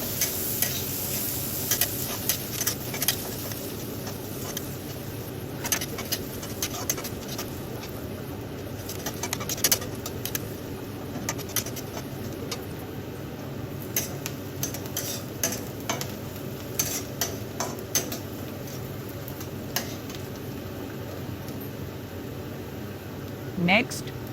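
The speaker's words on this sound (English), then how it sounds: "Increase the flame slightly and saute for 2 to 3 minutes until the onions turn soft and slightly golden" Chopped onion for street-style pav bhaji sautés in a pan over a slightly raised flame with a soft, continuous sizzle and frequent scraping and clinking of a spatula, and a voice talks faintly in the background.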